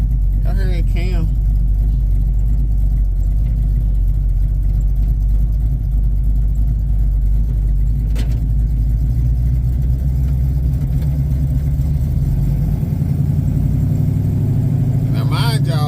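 A deep, rumbling 383 stroker V8 in a 1978 Chevrolet Malibu idles steadily with a lopey, uneven cam beat, nearby, while a voice speaks briefly at the start and again at the end.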